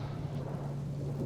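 Steady rain pours in the survival video game Subsistence, a dense continuous hiss with a low rumbling drone beneath, heard alone and at an even, fairly loud level throughout.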